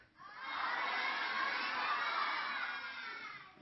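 A group of children shouts together in one long, sustained, loud cry that rises quickly and fades slightly at the end, during a science show for kids with a balloon demonstration.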